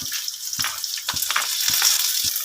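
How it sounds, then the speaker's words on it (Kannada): Dry and green chillies, cinnamon, cloves, poppy seeds and fennel sizzle and crackle in a hot pan, with a bright steady hiss broken by regular clinks and scrapes of a stirring spoon, close and lively. "ಇವಾಗ ಇದನ್ನು ಚೆನ್ನಾಗಿ ಫ್ರೈ ಮಾಡ್ಕೋಬೇಕು ನಾವು"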